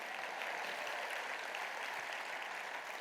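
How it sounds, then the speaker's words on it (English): Dense, steady applause from a patriotic rally audience at an American Freedom Tour event, a continuous wash of many hands clapping evenly for the full few seconds with no voices standing out. "Let's give all of you a round of applause, please, for being here."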